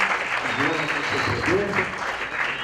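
Audience applause fills a hall at an international sustainability seminar, a steady wash of clapping that carries on throughout, with a voice speaking over it.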